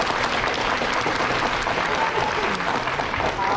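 Sustained applause from a museum crowd, even and fairly loud, many people clapping together without a break.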